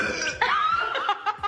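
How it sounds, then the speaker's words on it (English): A woman lets out a drawn-out, strained burp that blends into laughter, with giggling and short breathy bursts following at close range. "Burp in my mouth."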